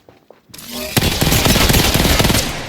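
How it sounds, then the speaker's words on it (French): Rapid automatic gunfire rattles loud and close in a Fortnite match, starting after a short quiet lead-in with a faint voice and continuing as a dense sustained burst. "On me tire dessus."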